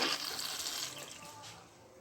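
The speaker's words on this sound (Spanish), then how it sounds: "Aquí va a salir el agua." Tap water gushing onto a towel in a manual washing machine, a brief splashing rush that starts strong and gradually softens over about two seconds.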